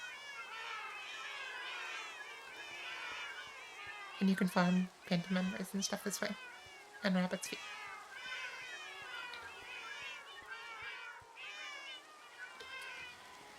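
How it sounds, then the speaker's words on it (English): Dozens of cats packed into a Minecraft farm, meowing in overlapping high calls throughout, with a burst of louder, sharper meows in the middle; someone talks over them the whole time. "There's like 100 cats in here, and it's very loud."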